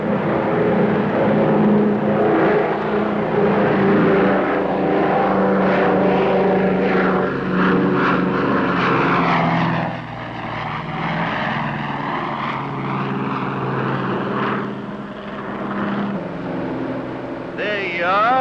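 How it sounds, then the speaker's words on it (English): A Lockheed Super Constellation propeller airliner climbs out after takeoff, its piston engines droning loud and steady with a throbbing propeller hum that eases slightly partway through. "Big as this Super Connie is, she wants to fly right on off of there."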